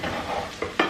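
Potatoes steaming in a pan are stirred, a soft continuous sizzle with a couple of brief scraping knocks from the spoon near the end, close by and with no talking.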